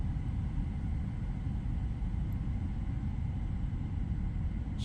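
Rear cabin of a PMDG Boeing 777F freighter in Microsoft Flight Simulator 2020, a steady, low droning rumble of engine and airflow noise, constant and unbroken with no voices.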